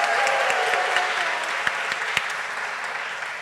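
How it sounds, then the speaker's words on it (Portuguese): An audience at a 2017 patient gathering gives a warm, full round of applause for the event team, the clapping loud at first and gradually easing, with a few sharp individual claps standing out. "Pedir outra salva de palmas para a equipe da Fundação Laço Rosa, a Patrícia"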